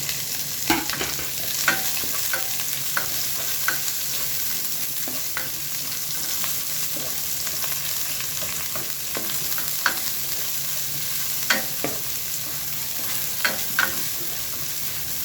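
Garlic, ginger, onion and leek stalks sauté in a pan for octopus, giving a steady close sizzle broken by frequent scraping stirs and clinks of the utensil.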